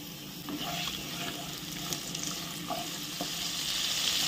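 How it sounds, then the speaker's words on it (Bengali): Shrimp coated in salt and turmeric fry in mustard oil in a wok, a steady close hiss and sizzle with faint scraping stirs, no voices. "চিংড়ি মাছগুলো আমাদের ভাজা হয়ে গেছে,"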